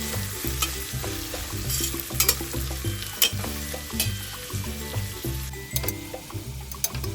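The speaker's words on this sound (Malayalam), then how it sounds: "എന്നിട്ട് കട്ട് ചെയ്ത് വെച്ച ഒണിയൻ ഇടുക. നന്നായി മിക്സ് ചെയ്യുക. 2 മിനിറ്റ് ഷാലോ ഫ്രൈ പോലെ ചെയ്യുക." Sliced onions shallow-fry in a pan for biryani, with a steady sizzle and repeated stirring scrapes in a close, rhythmic pattern.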